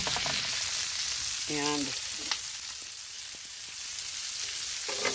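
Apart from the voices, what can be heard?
zucchini spirals sizzling in a frying pan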